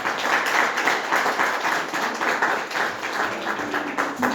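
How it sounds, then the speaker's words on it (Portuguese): A church congregation claps together after a Bible reading, a steady wash of dense hand claps lasting throughout with no voices over it. "Vamos aplaudir essa palavra maravilhosa."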